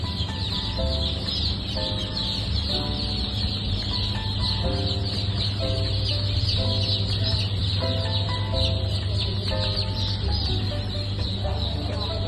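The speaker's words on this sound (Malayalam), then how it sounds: "എല്ലാം വിഗോവ താറാവ് കുഞ്ഞുങ്ങളാണ്." A crowd of newly hatched Vigova super hybrid duck chicks peeps continuously in dense, overlapping chirps, steady and close over a constant low hum, with no talking.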